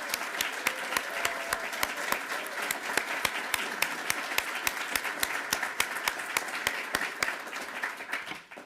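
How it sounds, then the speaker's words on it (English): An audience at a university education awards ceremony gives a round of applause for Dean Hess, fairly brisk, close clapping sustained throughout and tapering off at the end. "Let's give Dean Hess a round of applause."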